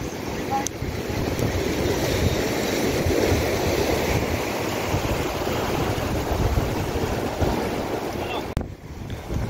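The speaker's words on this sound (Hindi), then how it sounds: "ये समंदर की खतरनाक लहर है।" Dangerous sea waves crash at Sandspit beach in Karachi during net fishing, making a continuous loud surf roar with heavy wind buffeting the microphone. A brief quieter dip comes near the end.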